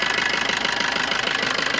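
The diesel engine of a 2017 Maruti Swift VDi idles close by, a steady, evenly knocking rumble with no voices.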